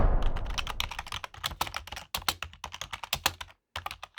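Rapid typing on a computer keyboard, close and crisp, a quick burst of irregular key clicks with brief pauses between runs of keystrokes, no voices.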